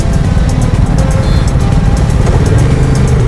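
Motorcycles riding on a highway heading out of Bengaluru, one of them a Royal Enfield Himalayan, give a loud, steady engine drone mixed with rushing wind noise, continuous and close throughout.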